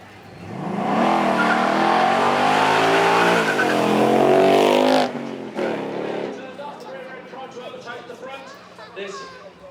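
An RTR Ford Mustang with a 5 litre V8 of about 500 horsepower, driving on track at a supercar event: a loud sustained engine roar rises and builds, then drops away as the car passes, with someone talking over it.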